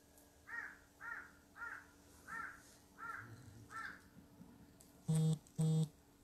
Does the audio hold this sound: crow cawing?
yes